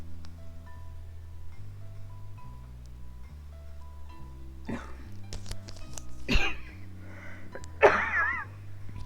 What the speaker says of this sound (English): I have to get that cough out